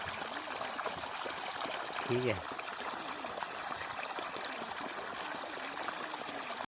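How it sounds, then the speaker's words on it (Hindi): Thin stream of water trickling steadily from a clay pot onto potato plants in a field, a soft continuous wash with a brief voice speaking in the middle. "ऐसे हल्की हल्की धार पे चल रहा है, साथ में पानी चल रहा है"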